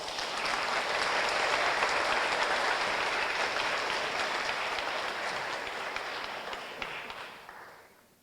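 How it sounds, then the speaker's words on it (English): Steady applause from a conference audience at a computer architecture award ceremony, a dense even wash of clapping that holds for several seconds before fading out near the end. "Come up here and get a picture. I get some applause."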